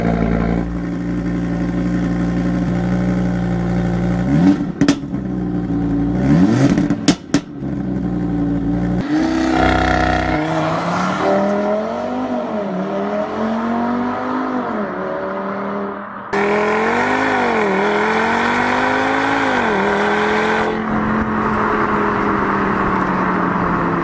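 A five-cylinder turbo car engine revs hard and loud in repeated rising and falling sweeps, then settles into a steady, throaty hold, with no voices.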